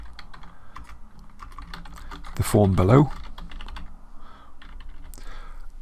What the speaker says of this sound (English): we were just typing here something like